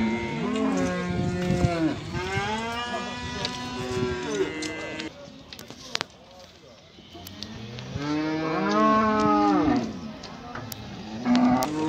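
A cow at a livestock market lows in long, loud moos close by, one stretching over the first seconds and another rising near the end, with market murmur and brief voices between calls.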